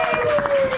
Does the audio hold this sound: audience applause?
yes